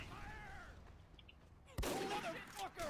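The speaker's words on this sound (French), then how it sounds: "C'est un headshot!" A single sharp sniper rifle shot from the Team Fortress 2 video game cracks out loud and close partway through, after a quieter stretch of game ambience with faint chirping, followed by busy game noise.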